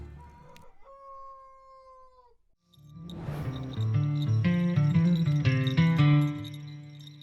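A rooster crows once in full, its call rising through stepped, harmonic-rich notes and ending abruptly, loud and close after a brief quieter opening, with no talk.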